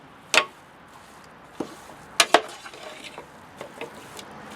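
Stirring and mixing a chicken biryani mixture in a bowl gives scattered spoon scrapes and knocks, with a couple of sharper clinks early on and softer scraping between them, close by and without talk.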